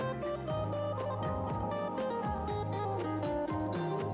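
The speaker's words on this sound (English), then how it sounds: "When you listen to jazz on your AM radio," Jazz with busy bass and horns, sounding muffled and band-limited with the bright top end cut off, like an AM radio broadcast.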